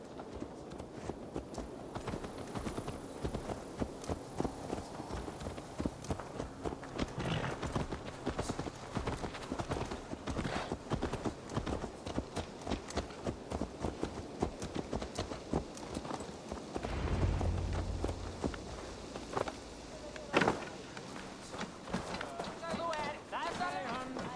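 Hooves clip-clop in a quick, steady rhythm for the whole stretch, with a brief low rumble partway through, from a horse in the video game Assassin's Creed Valhalla.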